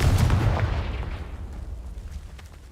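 A fire-blast spell explosion from the game Hogwarts Legacy: one loud, near booming burst with a rumbling low tail that fades over a couple of seconds.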